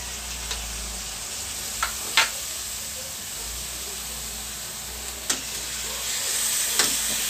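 Beef steak (bistek) frying in a pan, with a steady close sizzle and hiss broken by a few sharp clicks and scrapes of stirring, no talk.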